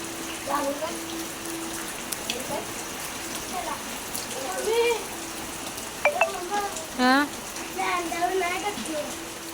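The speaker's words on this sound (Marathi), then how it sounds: "कोकणात चालू आहे अफाट पाऊस कंटिन्यू पाऊस आहे" Heavy monsoon rain in Konkan falls in a dense, constant hiss while a person talks over it.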